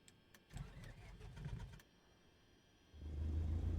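A piston aircraft engine in a flight simulator game cranks with a low rumble, goes quiet for a moment, then catches into a steady, loud low drone at the end.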